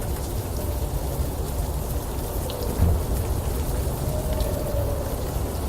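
Game-world rain falls steadily in Unavowed, a constant hiss with a low rumble of thunder building in the middle and then fading, with no voices.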